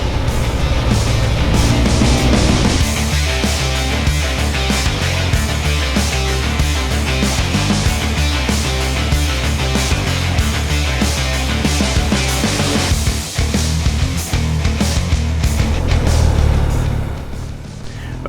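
A BMW GS motorcycle accelerating along a rally stage track, its engine a loud continuous roar rising and shifting in pitch, heard close up with strong rumble and wind, briefly dipping and then surging again.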